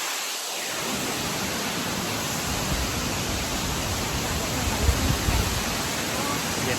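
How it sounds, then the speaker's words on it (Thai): Wachirathan waterfall on Doi Inthanon roars as a steady, loud, broadband rush of falling water that holds at the same level throughout. "ตอนนี้เราอยู่กันที่น้ำตกวัชิรทาน"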